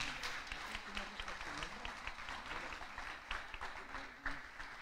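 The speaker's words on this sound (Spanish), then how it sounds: "Un aplauso a todos ellos" A church congregation applauds a group of students, a soft, fairly distant patter of many hands clapping continuously at low level, with faint murmuring in the room.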